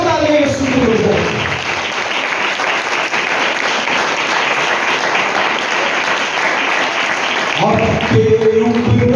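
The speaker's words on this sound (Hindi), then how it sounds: "जोरदार तालियां यीशु के लिए बजाएं।" Loud, sustained applause from a church congregation for Jesus during a convention sermon, steady clapping filling several seconds, with a preacher's voice heard briefly at the start and end.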